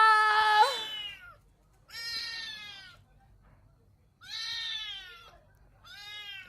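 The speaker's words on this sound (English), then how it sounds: "The cat can't get out." A cat trapped in a cage meows loudly and plaintively, four drawn-out, wavering cries separated by short pauses, close up and clear with no talking.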